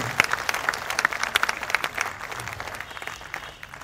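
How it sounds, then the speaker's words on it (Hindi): Scattered audience clapping at a Hindi poetry recital (kavi sammelan), starting with loud distinct claps that thin out and fade into a softer patter toward the end. "ताली तो बनती है ना"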